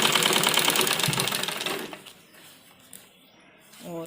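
A sewing machine stitches the seam of a men's kurta in a fast, steady mechanical run up close, then stops and falls quiet, with a brief whirring restart at the very end.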